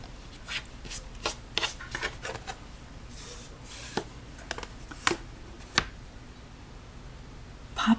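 Quiet cutting sounds while trimming small quilt units: scattered sharp ticks and snips, irregular and close, with soft rubbing of fabric between them and no talk.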